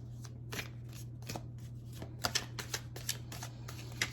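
An Osho Zen oracle card deck is shuffled by hand, a series of soft crisp riffles and slaps in irregular bursts, close and quiet over a low steady hum.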